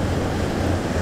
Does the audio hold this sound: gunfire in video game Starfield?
no